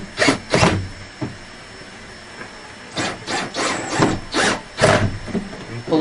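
Power drill driving screws into wood while building a wooden pass box, several loud whirring bursts of varying length separated by short pauses, close up with no talking.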